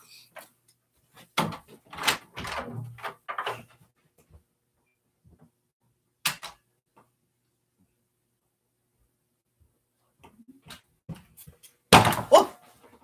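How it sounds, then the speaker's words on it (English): Someone bumps into a door at home while stepping away to fetch a nail file, giving a cluster of close thumps and knocks early on, then a single knock and a sharper bang near the end, with quiet gaps between. "I hit the door."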